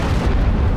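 Ship cannons fire in the naval combat game Abandon Ship, a loud deep rumbling boom that fills the whole short moment.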